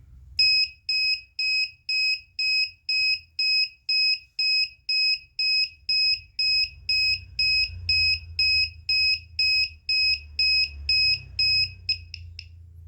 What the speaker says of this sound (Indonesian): Ketika terjadi percikan api, buzzer akan menyala dan juga LED merah yang akan menyala.